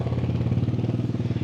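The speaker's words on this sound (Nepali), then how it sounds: "यसो बाइकको आवाजले नै बोलाइदिउँ न भनेर।" A motorcycle engine runs close by with a steady, rapid rhythmic thumping, heard on a ride in Nepal toward Mohini Waterfall.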